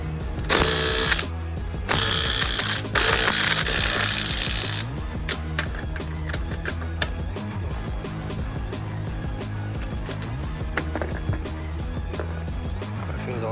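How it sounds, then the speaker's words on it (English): Ratchet wrench tightening the wheel nuts on a Mk2 Ford Focus: three loud bursts of rapid clicking early on, then slower, quieter intermittent ratchet clicks and taps continuing close by. "let's tighten up these wheel nuts"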